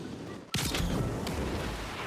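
A Torching Shot gun move fires in Roblox Blox Fruits, a sudden loud blast with a roaring, fiery rush that sustains for over a second and a half after the hit.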